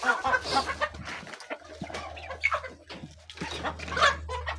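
Ducks and turkeys calling close by in their farm enclosure, with overlapping squawks and clucks over a low steady hum throughout.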